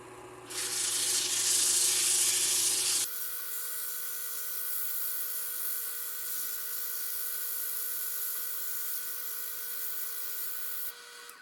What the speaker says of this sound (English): I'm going to sand the dowel down a little bit on the lathe